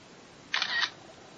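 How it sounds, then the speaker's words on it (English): A single brief camera shutter click from an iPhone 4 as a screenshot is taken, crisp and close against quiet background. "it flashes and you hear the camera shutter."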